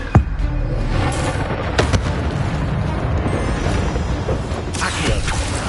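The Levioso levitation spell goes off in Hogwarts Legacy amid booming, explosive game effects, with sharp bursts near the start, a couple of seconds in, and again near the end over a steady rumbling bed.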